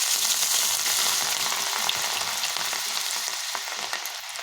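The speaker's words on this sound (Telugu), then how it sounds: "స్ట్రైనర్లోకి పప్పు వేసుకొని ఇలా ఫ్రై చేసుకోవాలి" Peanuts and chana dal fry in hot oil inside a strainer dipped into a kadai, giving a steady, close, continuous crackling sizzle with no voices.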